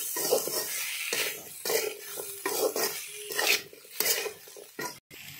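A spoon scraping and stirring turmeric and spices into a chickpea curry in a pan, a series of close, irregular scrapes and clinks with a soft sizzle beneath, separated by short pauses.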